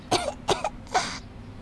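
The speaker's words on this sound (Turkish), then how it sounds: "Bir daha öksür." Three short, sharp coughs from a person during a medical examination, spaced fairly evenly and close-up, with the last one slightly longer and trailing off into quiet.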